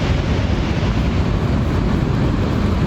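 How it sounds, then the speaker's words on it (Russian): Niagara Falls thunders as a dense, steady roar of falling water, loud and unbroken throughout with no voices over it. "Огромный водопад, мощный,"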